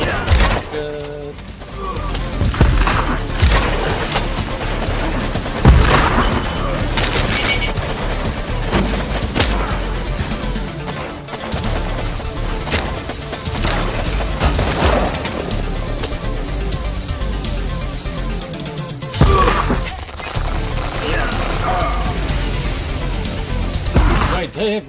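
Rocket salvos explode in the strategy game Warpips, heavy repeated booms and crackling bursts in dense volleys running almost continuously, with a voice talking over the battle.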